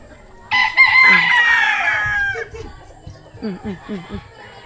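A rooster crows loudly, a long strained call, followed by a few short clucks from nearby chickens.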